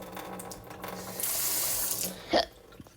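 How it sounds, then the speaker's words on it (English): A kitchen sink's joystick-style tap runs water in a steady close stream that stops, followed by a brief splash and drip, with no one talking. "And it has like a joystick-like tap, faucet,"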